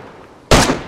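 A single sharp gunshot cracks out in the DayZ video game, one loud close burst after a quiet stretch, its echo trailing off briefly.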